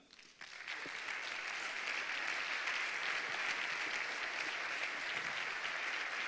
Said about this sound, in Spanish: un fuerte aplauso para Chomi Perurena